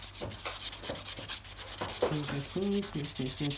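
A four-sided nail file rubs back and forth across fingernails during an at-home gel manicure, a close, rhythmic series of short scratchy strokes that grow slightly sharper and more tonal toward the end, with no talking.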